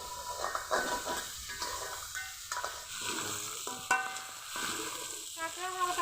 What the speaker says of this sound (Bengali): কাঁকড়া হালকা করে ভেজে নিয়েছি, এখন তুলে নেব।